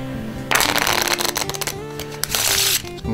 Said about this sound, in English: Let's just shuffle the deck